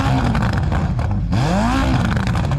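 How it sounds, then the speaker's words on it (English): A Ferrari sports car engine revs loudly up close, with a rising and falling roar that dips briefly in the middle before climbing again. "what I'm going to do is rev up this Ferrari again"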